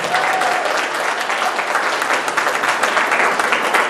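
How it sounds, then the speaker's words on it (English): A crowd at a local Democratic Party barbecue applauds steadily for a few seconds, a dense, even wash of many hands clapping with a faint voice beneath. "Let's just give a round of applause for a great man."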